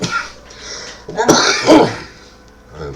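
A smoker lecturing indoors lets out a single harsh cough or throat-clearing burst in the middle, loud and close, with quieter breathy noise around it.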